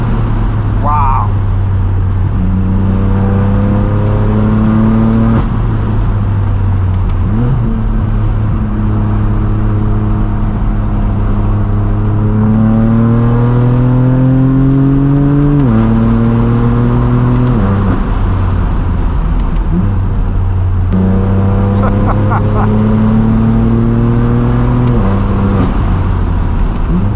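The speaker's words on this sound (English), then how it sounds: "Fourth gear is incredible in this car. It just keeps climbing and climbing." A BMW M4 F82 with the S55 engine pulls hard through the gears, its rising engine note climbing steadily in long sweeps between shifts, loud from inside the cabin with occasional voices.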